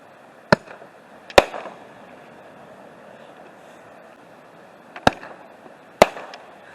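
Festival ball fireworks explode at a beach on National Beach Day, heard from a distance as four sharp, loud bangs in two pairs, each with a short crackling tail, over a steady low ambient background.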